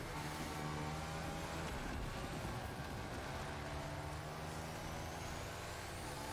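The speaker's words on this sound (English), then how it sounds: "I hear your motorcycle." A motorcycle engine in a first-person racing video game drones loud and continuous, with a steady, unbroken roar and no talk.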